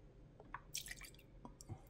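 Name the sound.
milk poured into SilverCrest milk frother jug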